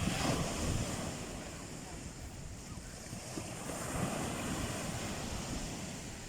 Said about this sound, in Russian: Море здесь